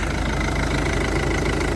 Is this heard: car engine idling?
yes